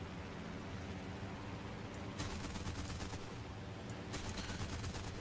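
A German 20mm autocannon fires in the War Thunder tank game as two rapid bursts of clattering shots over a constant rumbling engine and background din.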